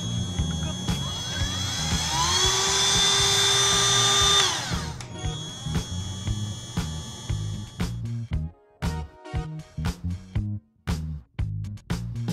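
A 12V cordless rotary tool power carving wood: a steady high whine that rises in pitch and winds down after about four seconds, followed by a run of short, close bursts of cutting noise.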